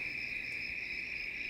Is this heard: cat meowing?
no